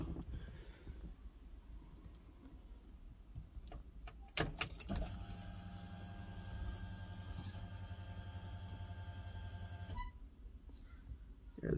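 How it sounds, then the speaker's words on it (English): An electric fuel pump priming a Holley Sniper EFI throttle body on a Quadrajet setup, a steady faint whining hum after a click, running about six seconds before cutting off, quiet with no talk. "The fuel pump just basically primed the throttle body."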